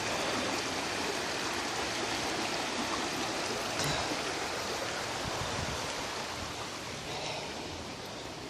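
Water of Shingle Creek running and tumbling over rocks and stones along a trail, a steady close broadband rush that stays constant throughout, easing slightly toward the end, with no voices.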